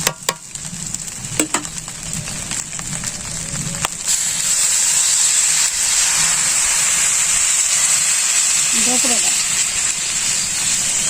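Water poured into a hot pan of fried rice and chicken for khichuri, with stirring clatter first, then the sizzle swells into a loud, sustained hiss, and a voice is heard briefly.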